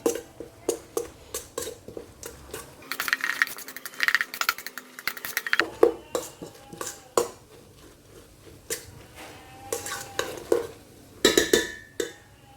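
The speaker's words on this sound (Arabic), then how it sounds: "نحرك الرز مزيان مع البيض" A mixture of rice and eggs with a little salt is stirred in a bowl, giving a long run of quick, uneven clinks and scrapes from the utensil, with busier bursts in between.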